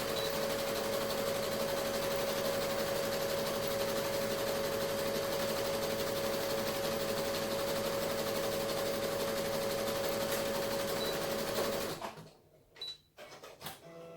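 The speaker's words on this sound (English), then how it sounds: "now I'm gonna sew up the other end" A sewing machine stitches a fabric face mask in one steady, continuous whirring run, close and clear, then stops abruptly, leaving a few faint handling clicks.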